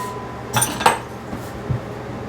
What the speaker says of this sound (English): now I'm going to beat my egg, and it's just one egg